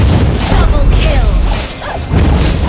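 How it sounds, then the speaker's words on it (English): A turret being destroyed in the Mobile Legends mobile game, heavy booming crash and mechanical rumble sustained across the moment, with swishing effects and game announcer voice lines over it. "You destroyed the turret."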